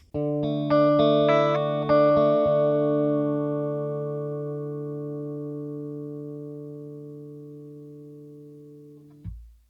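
Electric guitar strums a sustained chord through effects, heard via a Melonare SD-1-2R wireless in-ear monitor system, ringing out long and slowly fading, tone thickened by effects, before a brief thump cuts it off.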